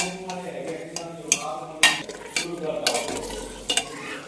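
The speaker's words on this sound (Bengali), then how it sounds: "খন্তি নাড়া দেখে বুঝতে পারবে যে প্রথমবারই খন্তি ধরেছে" A spatula stirring mutton curry in a pan, close scraping strokes in an uneven rhythm over a soft sizzle, with a few sharper clacks against the pan.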